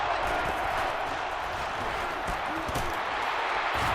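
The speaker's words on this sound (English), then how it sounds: "And this crowd is going crazy." A college football crowd at Ole Miss versus Alabama roars in a dense, continuous wash of cheering and shouting, loud and unbroken throughout.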